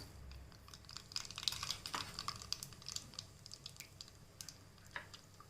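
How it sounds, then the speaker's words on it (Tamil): Mustard seeds splutter in hot oil in a pan, with a quiet, irregular stream of small crackling pops and sizzling ticks, with no talking. "கடுகு பொரிஞ்சிருச்சு."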